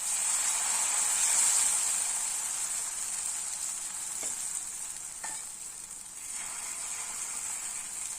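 Dosa batter sizzling in an oiled pan, a close, steady bright hiss that holds for several seconds, with a few faint taps partway through and no voices.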